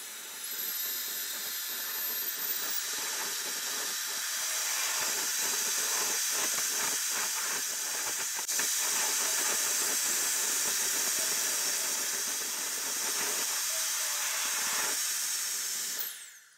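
A steady, loud rushing hiss of an Air Blaster 5000 air blower dryer on its lowest setting, running continuously for the whole stretch, with faint clicks and rustles underneath.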